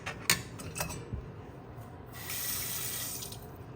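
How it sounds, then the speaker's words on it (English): Water is poured into a pressure cooker while making tomato chutney, a soft, steady splashing and trickling with a few light clinks of metal at the start, faint and close with no talk. "I will add half a cup of water"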